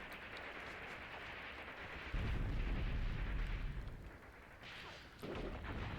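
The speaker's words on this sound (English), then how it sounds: "we are bombarding them with tanks" Tank artillery bombardment in the Graviteam Tactics war game, set in the Second Battle of Kharkov: a deep rumbling barrage swells abruptly and rolls on for a couple of seconds, then returns after a brief lull, distant and heavy.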